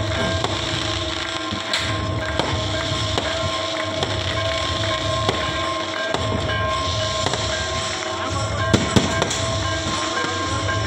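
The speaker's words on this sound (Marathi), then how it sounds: "इकडं फटाके फोडतायत।" Sharp crackling pops from firecrackers at the Datta Jayanti temple festival at Devgad, a dense continuous volley of small bursts with a couple of louder bangs, heard at a moderate distance.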